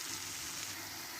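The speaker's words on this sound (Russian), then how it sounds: "Сейчас мы будем на предварительно разогретую сковородку выкладывать наши зразы и обжаривать." Potato zrazy stuffed with minced meat fry in a preheated pan, giving a brief, faint, even sizzle with no talk.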